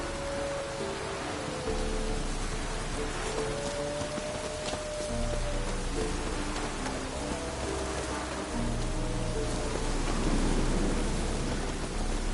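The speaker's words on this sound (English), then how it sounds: "Looks like rain." Steady rain hisses throughout a video game scene, with a low rumble of distant thunder underneath and faint tonal music, no voices.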